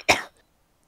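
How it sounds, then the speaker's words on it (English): A single short, sharp cough up close, followed by near silence. "Stop coughing."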